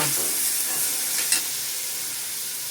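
Soaked rice tipped into a hot pot for plain pulao, with a constant bright sizzle and hiss throughout and one short stirring scrape partway through, loud and close, with nobody speaking.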